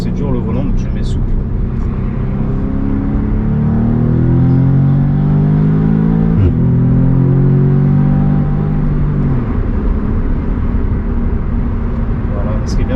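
An Audi S3 8V engine revs up with rising harmonic sweeps, pulls strongly, then drops off as the throttle is released around the middle, steady road and cabin noise continuing beneath.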